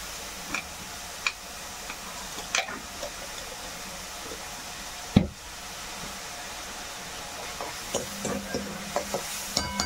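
Cooked pumpkin stir-fried in a pan, with a quiet steady sizzle under occasional scraping and clinking of a spoon against the pan, including one sharper knock midway, all fairly close.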